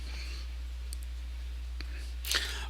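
A single mouse click on the Next button of a software setup screen, faint and sharp, with a second brief click-like burst near the end against a low steady hum.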